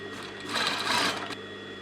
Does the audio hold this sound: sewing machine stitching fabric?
yes